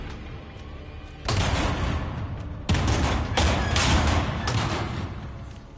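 Sustained bursts of rapid gunfire from a firearm in Resident Evil 9, loud and close, with dense rattling volleys starting, pausing briefly and resuming over several seconds.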